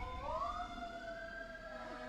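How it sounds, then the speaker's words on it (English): An emergency vehicle siren sweeps past outdoors, a steady rising and falling wail that runs the whole moment at moderate loudness, with no voices over it. "there's an ambulance going by"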